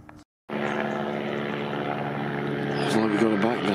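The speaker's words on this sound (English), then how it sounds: "We've got the Luftwaffe overhead." Propeller aircraft droning steadily overhead during a game shoot, a continuous engine hum with tonal harmonics after a brief silence, with people talking faintly beneath it.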